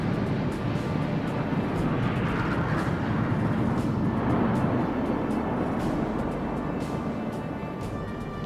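Indian Air Force jets fly past at low altitude in an aerobatic formation during a Republic Day display, a continuous broad roaring rumble that swells and then slowly fades.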